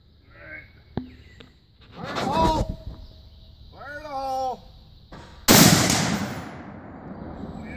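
One loud, close blast from a .50 caliber rifle shooting at swinging targets bursts out near the end, preceded by scattered faint knocks and people talking.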